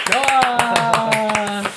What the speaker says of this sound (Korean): 조석현 변리사님 박수